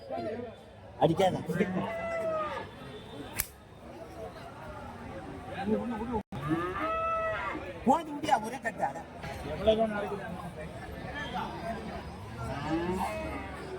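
Native cattle, pairs of working plough bullocks, at the Orappam cattle market in Krishnagiri district; several lowing moos rise near and far amid a crowd's chatter, with someone speaking throughout.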